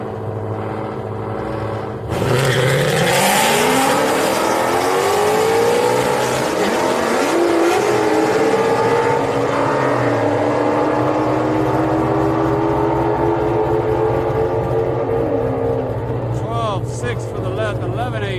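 Street race cars launch and tear down the drag strip at Houston Raceway Park, a loud engine roar bursting in and sweeping up through gears, with a commentator talking throughout.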